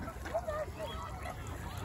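A goose honks close by at a waterside, a few short nasal calls near the start mixed with other ducks and geese, while a person talks over the scene.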